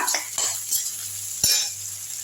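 Garlic cloves sautéing in oil for a village-style fish curry: a soft, continuous hiss with a few spoon-stirring clinks over a low hum.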